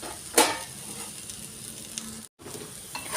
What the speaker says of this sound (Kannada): ಈಗ ಸ್ವಲ್ಪ ಈರುಳ್ಳಿ ಕೆಳಮುಖದಲ್ಲೂ ಬೇಯಲಿ ಅಂತ ಬಿಡೋಣ